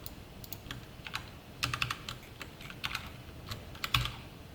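Code is typed on a computer keyboard, a quiet close run of irregular key clicks with small bursts and pauses, no voice.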